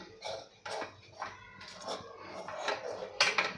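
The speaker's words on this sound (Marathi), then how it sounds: "आता हे सगळं पीठ आपण यामध्ये घालून मिक्स करायचं आहे" Rice flour is stirred into hot water in a metal pot to make dough for steamed modak, heard as irregular close scrapes and clunks of a spoon against the pot, with quiet pauses between strokes.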